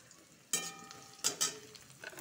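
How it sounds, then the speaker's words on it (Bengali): Onions frying in a pan for a fish dish, with soft sizzling broken by a few louder bursts of crackle and stirring, close and fairly quiet. "পেঁয়াজটা ভাজা ভাজা হবে।"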